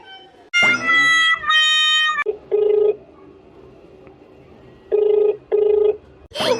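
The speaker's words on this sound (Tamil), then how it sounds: "இன்னைக்கு நான் ஒரு ஃபோன் பண்ணுறேன்" A telephone call is placed: a few loud keypad dial tones, then a steady sequence of evenly spaced ringback beeps with quiet gaps between them, heard alone with no talking.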